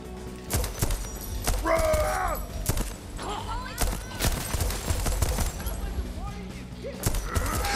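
Rapid bursts of gunfire ring out repeatedly in the video game Deathloop, loud and close, mixed with thuds and impacts throughout.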